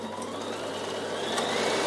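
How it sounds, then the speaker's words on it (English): A Bernina sewing machine stitches fabric with a steady, close mechanical whir and faint rhythmic ticking, alone with no talk. "I lift it up and I sew all the way up the side"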